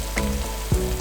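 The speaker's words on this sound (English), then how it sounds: "That'll release some of the oils as we actually stir fry it in the pan." Kaffir lime leaves stir-fry in a hot pan for pork and green bean red curry, a close steady sizzle with a couple of brief stirring knocks in a short moment, no talking.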